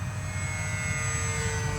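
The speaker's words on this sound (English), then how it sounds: "let's feel what this airplane can do now." An Aeroscout RC airplane in flight makes a steady, continuous motor whine and drone with sustained tonal hum, holding at an even level throughout with no talking.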